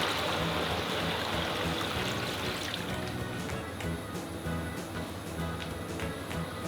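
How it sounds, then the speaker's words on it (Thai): Coconut milk pours into a pot of pumpkin for a Thai pumpkin-in-coconut-milk dessert, a close, steady liquid splashing and trickling that softens partway through. "เติมน้ำกะทิลงไปนะคะ เติมลงไปก่อนครึ่งหนึ่งนะคะ"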